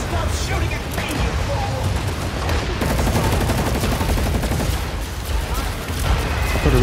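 Gunfire in the sci-fi shooter video game Planetside 2, dense overlapping bursts of automatic fire and rapid shots crackling continuously, with a voice talking over the battle noise.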